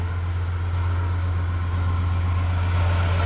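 A 1995 Chevy Cheyenne with a rebuilt GM 5.7-liter 350 small-block V8 idling after a cold start, a steady low rumble with an even exhaust pulse, close and continuous with no talk.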